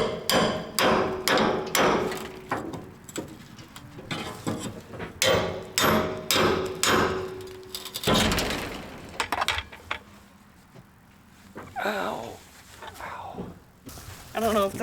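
A nailed siding board is pried and hammered off a salvaged mobile home, with repeated sharp knocks and thuds in bursts, a scraping creak, and occasional talk nearby.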